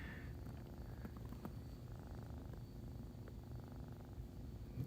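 Steady close purring from kittens, a soft continuous low rumble with a few faint clicks and no voices.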